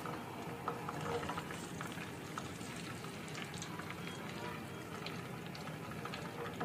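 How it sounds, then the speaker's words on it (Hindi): Mustard oil with green chilies, garlic and ginger simmering in a pan, giving a steady, soft bubbling crackle with fine popping that runs evenly and close throughout, with no talking. "यहाँ पे आप देख सकते हैं इसमें बॉयल आना शुरू हो गया"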